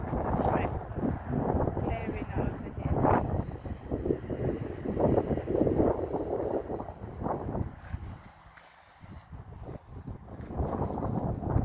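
Wind buffets the microphone on an outdoor afternoon walk, a steady low rumbling roar with gusty surges that briefly drops near the end, while a person talks throughout.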